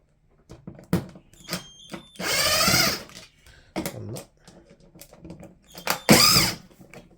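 Power screwdriver backing screws out of the rear panel of a Samsung TV during repair, with several short whirring bursts of varying length separated by clicks and handling noise, close and fairly loud.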